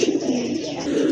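A pair of large nun pigeons cooing close by, a continuous low, throaty cooing that swells and repeats in soft rolling pulses.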